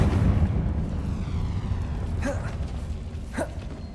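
A Confringo fire spell explodes in Hogwarts Legacy, a dull rumbling boom that fades over a few seconds, with two short whooshing effects and no talk.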